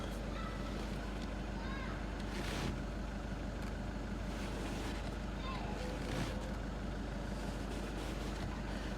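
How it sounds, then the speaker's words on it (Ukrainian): A 2017 Volkswagen B8 Highline engine idling with the hood open while the clutch is worked, a steady low rumble heard up close with wind noise, and someone talks over it. "Зараз ми відкриємо капот і послухаємо як працює щеплення."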